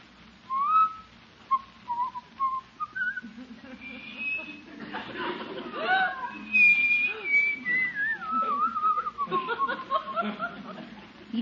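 A person whistles an uneven, wandering tune in short phrases, with soft chuckling sounds mixed in.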